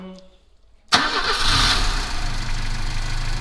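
After a quiet moment, the engine of a BMW 316 E21 abruptly cranks and catches, then settles into a steady, loud idle close by.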